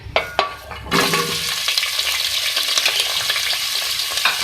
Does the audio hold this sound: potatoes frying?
yes